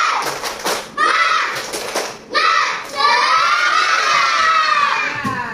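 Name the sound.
children doing a rhythmic clapping cheer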